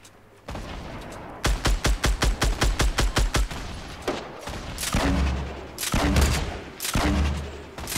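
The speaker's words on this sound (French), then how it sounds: "Ça tire." Loud gunfire in Fortnite Battle Royale: a rapid string of about a dozen evenly spaced shots, then a pause and three heavier, booming blasts spaced about a second apart, with no talking.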